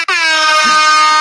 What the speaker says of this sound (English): download like the air horn app, because you ain't no DJ unless you have like an air horn